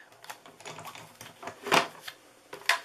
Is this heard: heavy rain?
no